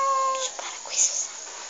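A cat meows close by, a short high-pitched call rising and falling over under two seconds while a person talks softly alongside it.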